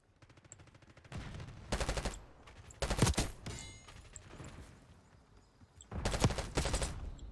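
Bursts of rapid automatic gunfire from the Call of Duty video game come in several loud, separate volleys with short pauses of quieter game sound between them.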